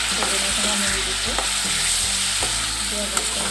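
Drumsticks frying in a pan with onion and a little sugar, a loud continuous sizzle broken by clanks of stirring.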